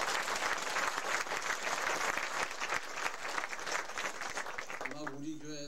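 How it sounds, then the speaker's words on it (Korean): Church congregation applauding at a building dedication service, steady sustained clapping filling the room from many hands, fading near the end as a voice begins speaking. "박수 한번 하시죠."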